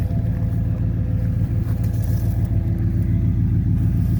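A truck being moved to tow a junked Lebaron parts car, its engine a steady low rumble held close throughout with no voices over it.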